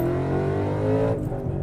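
A 2012 Ford Mustang Boss 302 V8 pulls hard under acceleration, a loud, close, steady harmonic engine roar that climbs and then eases off near the end, with no talking.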